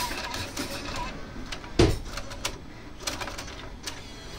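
A stuck CD changer mechanism ejects its discs, giving a series of mechanical whirs and clicks with one louder clunk partway through, close and fairly quiet, with no talking.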